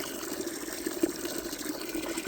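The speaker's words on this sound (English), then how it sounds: "We'll fill this up with water." A bucket filling with water for pigs on a farm, with a steady trickling gush from a tap and small bubbling splashes, fairly close and alone.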